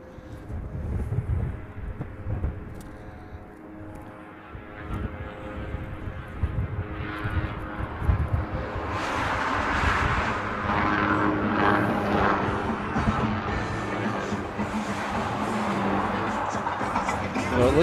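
A Boeing 747 airliner comes in to land through haze, its engine roar building from a distant rumble into a broad, loud wash with wind buffeting the microphone.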